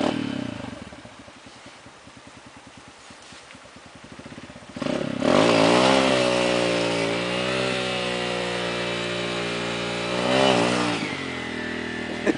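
A trail motorcycle climbs a steep uphill trail, its engine first clattering at low revs, then roaring loudly as it accelerates hard and holds a strained, wavering pitch close by.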